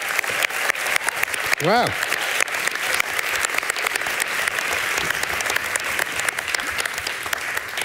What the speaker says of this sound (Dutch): Geef ze alsjeblieft een hartelijk applaus